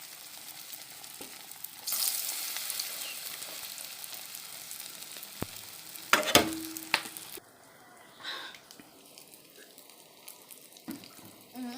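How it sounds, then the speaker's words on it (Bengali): Beguni, eggplant fritters, frying in a pan: a low, steady sizzle broken by a few clanks and scrapes of stirring, with a short louder burst of crackling midway. "তো এখন বেগুনিগুলো আমি ভেজে নিব।"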